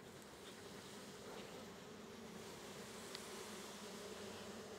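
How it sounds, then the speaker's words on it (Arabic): Honeybees swarm over a hive at the queen excluder, their dense, even buzzing hum close and continuous throughout, with no voices. "كما تلاحظون أن النحل بدأ في الصعود من الفتحات"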